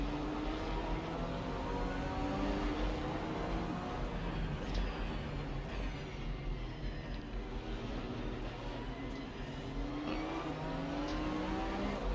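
Race cars including a BMW and a Nissan rev and roar continuously through a GT3 video game race, engine tones rising and falling steadily and loudly throughout with no talking.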